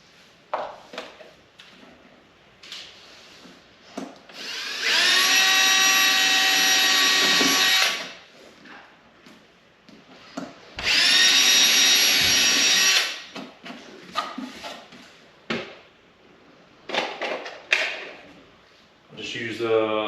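Power driver sinking 2-inch GRK trim-head screws into a wall board for a stud bay pantry, two sustained whirring bursts of about three and five seconds, close and loud, with handling clatter and brief talk around them.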